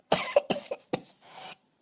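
One person coughs at close range: a quick run of four or five harsh hacking coughs, then a longer raspy, breathy exhale.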